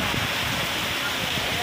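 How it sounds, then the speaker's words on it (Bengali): Heavy rain pours down outside a school, a dense, steady hiss that fills the whole clip without letting up, with a muffled voice faintly underneath. "একদম তুমুল বৃষ্টি শুরু হচ্ছে।"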